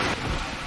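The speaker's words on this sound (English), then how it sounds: "As y'all can see, it is pouring down raining." Heavy rain pouring down outdoors, a dense steady hiss of falling water, fairly faint and brief.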